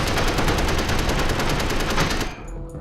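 Sustained rapid rifle gunfire in the space survival game Space Engineers, loud, dense automatic bursts running continuously before cutting off abruptly near the end, leaving a quieter tail.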